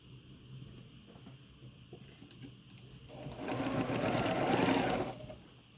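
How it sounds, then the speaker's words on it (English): A sewing machine stitches quilt triangles for a Bear Paw block, starting faintly and then running steadily for about two seconds as a close, even whirring before stopping. "I'm just gonna lay this guy on top and sew down here."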